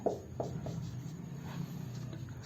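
A pen or marker scratches out a fraction on a board during a Hindi percentage lesson, with short scraping strokes and taps, soft and close over a low steady hum.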